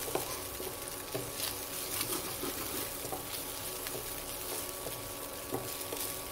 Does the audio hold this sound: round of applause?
no